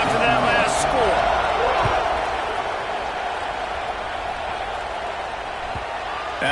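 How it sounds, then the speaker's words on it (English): Broad stadium crowd roar at a college football game, Oregon at Florida State, buzzing steadily after a score and the extra point, loudest at the start then settling into a sustained wash of noise with a few sharp knocks. "this crowd is buzzing after that last score"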